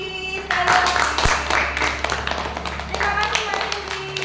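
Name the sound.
group clapping for a student group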